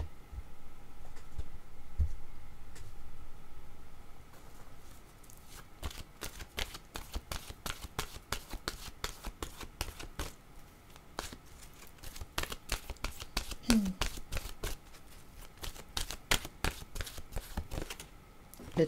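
Oracle cards are shuffled in repeated quick riffles and taps, close and crisp, coming in bursts that grow denser partway through, over a faint room hum.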